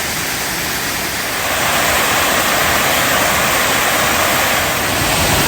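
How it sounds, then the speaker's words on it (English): At the top of a three-level waterfall on a hiking trail near Chiang Mai, Thailand, falling water makes a loud, constant roar that fills the scene without letup. "This is the first of 3 waterfalls we're going to see on this hike, but this is actually just the top of it."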